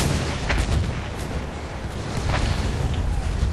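Rifle fire and battlefield booms from Battlefield 1 rumble dense and heavy, with repeated blasts layered over a continuous low roar of combat.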